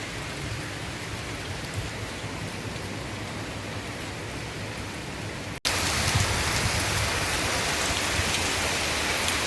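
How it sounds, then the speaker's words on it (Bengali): Heavy rain pours steadily on a rainy day, a dense, loud, continuous hiss of drops hitting surfaces near a parked car, briefly cutting out before resuming even louder. "প্রচণ্ড বৃষ্টি পড়ছে দেখি"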